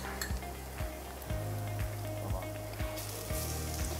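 Minced meat frying in a pan for a healthy meat lasagna, a steady close sizzle and hiss under a low hum, with regular soft thumps of stirring.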